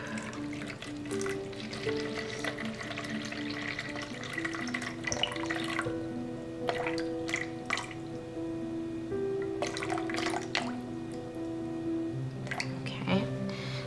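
Water is poured into a container while being measured out for charcoal facial soap, with a light trickling and splashing heard faintly beneath steady background music.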